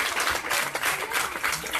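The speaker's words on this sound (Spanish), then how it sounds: "os pido un gran aplauso para nuestro invitado" An audience at a book presentation applauds its guest, a dense and steady round of clapping from many hands in a room.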